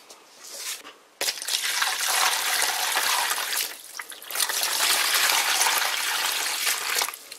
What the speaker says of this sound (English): So now I only need to add some water and we should be ready to go.